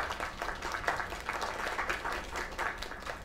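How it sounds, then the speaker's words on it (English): A crowd claps steadily for a few seconds in a video game, a dense patter of applause with slight swells, slightly processed and game-like in tone. "Another round of applause."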